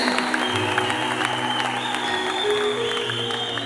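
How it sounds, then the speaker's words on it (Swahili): Wedding guests clap in a brisk, even patter at a celebration, with steady music tones droning underneath the crowd. "polepole tu tukimshapigia makofi"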